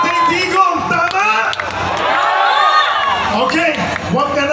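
A rally crowd for Tatay Digong cheers, whoops and shouts continuously at close range, a loud, dense wall of voices that swells and dips over a few seconds.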